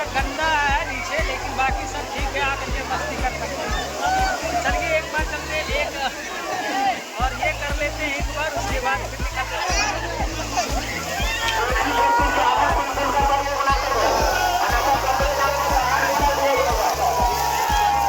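Rushing water at Kakolat waterfall in Bihar, a steady broadband roar with splashing, overlaid by loud rhythmic music and voices of people, including children, talking nearby throughout.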